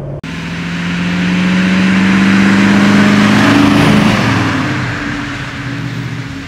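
A 1959 BMW 503 Cabriolet Series II drives along, its engine note rising and holding steady as the car pulls away, then settling back, loud and close with no talk over it.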